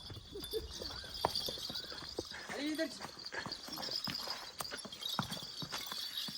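A mare carries an inexperienced rider at a walk, her hooves clip-clopping in a steady, close rhythm on the ground while people talk over and around the footsteps.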